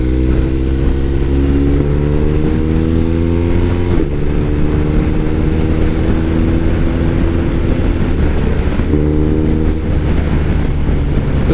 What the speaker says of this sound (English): This bike is awesome. It just pulls when you need it to